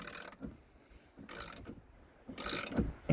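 A socket wrench ratchets on a bolt of a 7.3 truck in short, faint bursts of clicking, three separate spells of ratcheting with quiet pauses between them.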